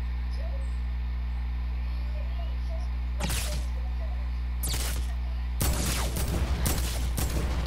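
Gunfire in a heavy assault rifle shooter video game: a short burst around the middle, a second brief burst, then a longer rattling volley near the end, loud over a steady low hum.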